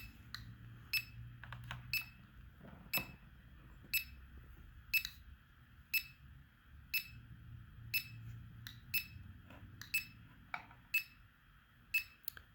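A Geiger counter with a glass-tube probe that senses beta and gamma radiation sounds its alarm in a steady series of sharp, high beeps about once a second over a faint low hum.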